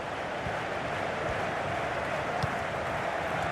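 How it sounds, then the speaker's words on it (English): A stadium crowd in the FIFA 16 football game at a Leicester City Premier League match, a steady, dense roar of cheering that holds level throughout with no talk over it. "And the crowd really enjoying it."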